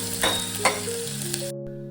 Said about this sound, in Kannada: ನೆಕ್ಸ್ಟ್ ಕಟ್ ಮಾಡಿರೋಂಥ ಈರುಳ್ಳಿ ಹಾಕ್ಕೊಳ್ಳಿ. ಚೆನ್ನಾಗಿ ಫ್ರೈ ಮಾಡಿ.